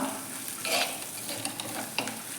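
Small onions with a quarter teaspoon of turmeric being stirred in a frying pan over low flame for a curd curry: soft scraping strokes of a spoon with a quiet sizzle and a couple of light clinks.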